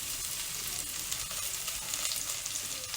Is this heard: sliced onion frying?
yes